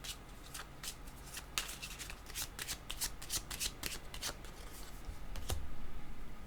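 Tarot cards are shuffled close up in a quiet room, a rapid series of soft riffling flicks and slaps repeating unevenly for several seconds with no talking.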